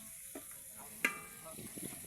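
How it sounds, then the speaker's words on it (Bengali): Meat cooking in a pan, a quiet sizzle with faint stirring and one sharp clink of utensil on metal, heard close. "যে মাংস, এই যে এখন মাংস রান্না চলতেছে।"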